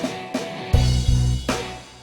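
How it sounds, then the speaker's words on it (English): Electronic drum hits from a digital accordion, played with the left hand: sharp percussive strikes with a deep bass thump, several beats in a steady pattern, close and fairly loud, no talking. "So even the drums, which you'll hear, which sound like this,"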